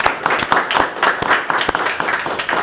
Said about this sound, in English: let's applaud our entrepreneurs.